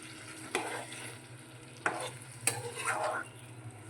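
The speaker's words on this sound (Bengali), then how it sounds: "এই যে দেখো সুন্দর করে কষিয়ে নিচ্ছি" Curd-marinated green jackfruit is sautéed in a pan, with a steady low sizzle broken by a few sharp scraping stirs of a spatula, close and fairly quiet, with no talk.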